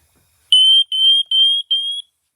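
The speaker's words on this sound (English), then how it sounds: "I swear that's not very loud, that alarm." Household smoke alarm under test emits four loud, high-pitched electronic beeps in a steady rhythm, each held for roughly a third of a second, with short gaps and near silence before and after.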